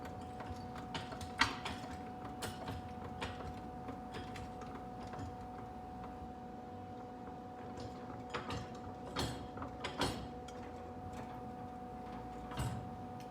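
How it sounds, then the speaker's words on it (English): Mechanical clicking and ratcheting as a jack is cranked up under the frame of a 1971 Plymouth Cuda during a frame rail restoration, a few sharp clanks standing out over a steady workshop hum. "Move our jack over. Crank this up a little bit."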